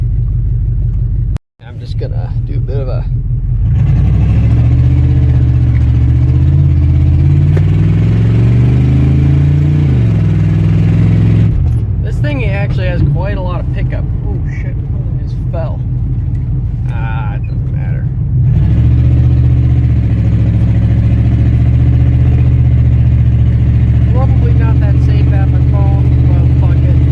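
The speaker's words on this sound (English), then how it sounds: "I think I'm going to go to a place and do a burnout." A car engine revs hard for a burnout, loud rising and falling roars with rattling clatter, briefly cutting out near the start before surging again, and someone talking over part of it.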